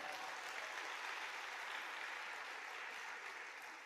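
An audience at a business seminar breaks into sustained, dense applause, a continuous wash of many hands clapping at a steady level with no voices over it.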